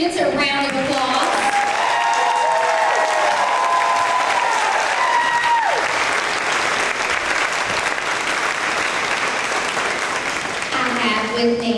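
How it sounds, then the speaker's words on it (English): A school awards event crowd gives a sustained round of applause for third grade students, loud and steady throughout with a few voices mixed in. "let's give our third grade students a round of applause."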